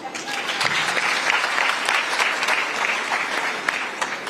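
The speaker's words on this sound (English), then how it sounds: "a big round of applause to our panelists" A crowd applauds panelists at a women in leadership event, sustained dense clapping with a few sharper individual claps, and faint voices under it.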